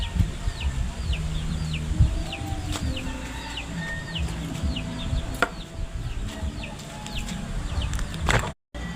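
Chickens cluck in a backyard where they roost in the afternoon, repeated short calls layered over one another at moderate distance, with scattered knocks and a brief dropout near the end.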